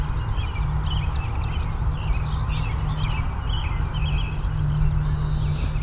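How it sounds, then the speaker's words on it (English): A Tennessee warbler's high, rapid trilling song repeats twice over a steady low hum, with other birds chirping faintly around it. "You can really hear that Tennessee warbler."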